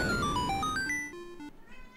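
A short game jingle from Link's Awakening DX plays on its own: a stepped run of bright synthesized notes that climbs, drops and climbs again before thinning out, with a steady lower tone held underneath.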